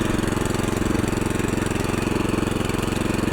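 A walk-behind tractor engine runs steadily close by, a loud rhythmic chugging pulse without break.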